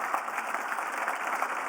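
Audience applause at a tech conference talk, a short steady burst of many hands clapping, moderately loud and even throughout.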